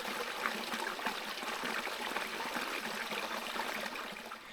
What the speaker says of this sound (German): Ist ein sehr kleiner Bach